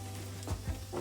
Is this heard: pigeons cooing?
no